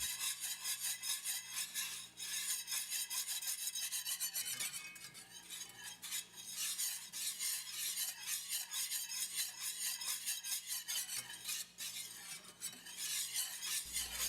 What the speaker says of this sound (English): I change to a whisk, and that helps me scrape up the fond better.